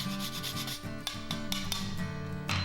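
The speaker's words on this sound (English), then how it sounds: "And then I'm gonna grate in some whole nutmeg." Whole nutmeg is rasped against a fine grater in quick, repeated scraping strokes, close and fairly quiet, with no talking.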